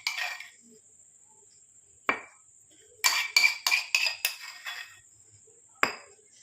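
Cooled homemade cream being moved into a bowl, with a few scattered clinks early on and then a quick run of bright dish-and-spoon clinks, close and crisp, ending with one more clink.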